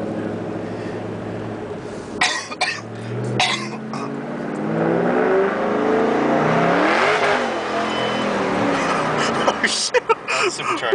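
A supercharged Shelby GT500 KR engine revs up, a loud rising snarl that swells and falls back as people talk and react nearby.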